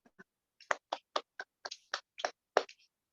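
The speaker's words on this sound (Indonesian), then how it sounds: "Tepuk tangan online." A short burst of scattered, crisp hand claps for an online guest at the end of a Q&A, about ten separate sharp claps in an uneven rhythm, close and dry with silence between them and no talking.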